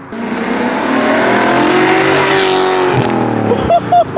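A straight-piped BMW 540i V8 revs up hard in a long, loud, rising roar heard close from inside the car, then drops off abruptly as short voice bursts come in at the end.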